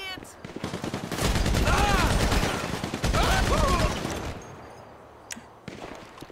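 Dense video game gunfire rattles in rapid bursts, loud and close, with a short pause between two long volleys and a few scattered shots at the end.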